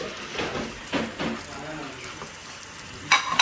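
Dried red chilies, curry leaves and ginger frying in oil make a quiet, close sizzle broken by a few short crackling bursts, with a sharper spatter near the end.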